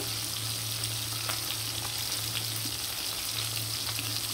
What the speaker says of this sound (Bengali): মাছটা কিন্তু খুব সুন্দরভাবে ভাজা হয়ে গেছে